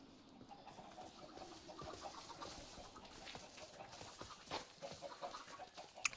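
Chickens cluck softly in the Forever World video game, a faint, scattered run of bird calls over a steady background bed with no one talking.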